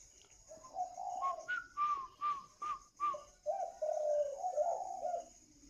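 A caged songbird kept for its voice sings a run of clear whistled phrases, a series of short repeated notes between longer warbles, close and steady over a faint high hiss.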